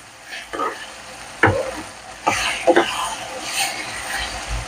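Chicken frying in oil with ginger, garlic and onion gives a soft, faint sizzle broken by a few sharp stirring scrapes, with no one speaking.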